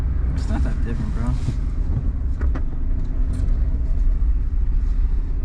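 Suzuki Alto Works HA22S car driving, a steady engine and road rumble with wind noise inside the cabin, with people talking over it.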